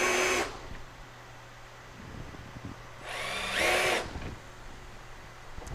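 A power drill drilling metal on a 1967 Chevrolet Chevelle whines in two short bursts, the second one longer, with a quiet pause between them.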